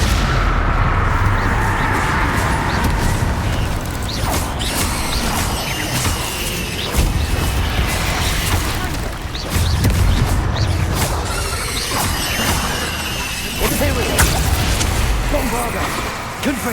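Rapid magical spell blasts and explosions from Bombarda and Confringo in Hogwarts Legacy, loud and continuous with repeated booms and crashes, under a voice calling out spells.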